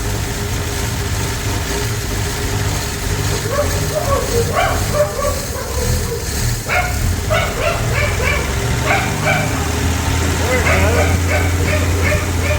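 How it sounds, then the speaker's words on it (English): Oswald the dog barking at the exhaust of a 1965 Plymouth Valiant 100 with slant-six engine: repeated yips and barks over a steady idling engine rumble, close and loud, with people talking at times. "he loves barking at exhaust"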